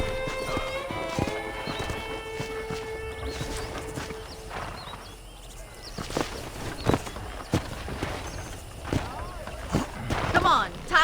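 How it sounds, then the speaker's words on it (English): In the Red Dead Redemption video game, horse hooves clip-clop steadily on a ranch path and a horse whinnies, while characters talk over the hoofbeats against outdoor ambience. "I picked out a fine horse for you."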